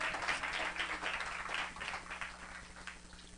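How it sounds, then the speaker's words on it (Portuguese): Congregation in a church clapping loudly in praise, a steady dense wash of many hands applauding together at a distance, with no voices over it. "Agora sim, aplauda bem forte ao Senhor."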